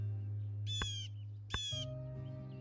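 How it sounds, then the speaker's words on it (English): Two short, harsh bird calls from a blue jay in the Wingspan board game, sounding as bright, buzzy cries spaced about a second apart over a steady low hum, followed by a soft tonal sound. "This is the sound of the blue jay."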